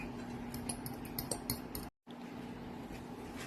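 A utensil stirring deviled egg filling with onion, horseradish and smoke flavoring in a bowl, giving a run of light clinks and scrapes, quiet and close, then a brief gap and softer stirring.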